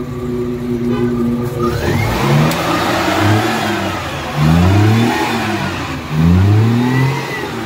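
A Maruti Suzuki Omni CNG van with its catalytic converter removed, engine idling then revved in three strong bursts that rise and fall, loud and close, with a raspy exhaust note between blips.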